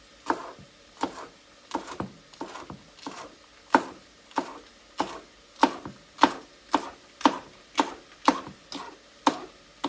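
A knife slices green pepper into thin pieces on a board, with about fifteen crisp, evenly spaced chops in a steady, unhurried rhythm, close and clear.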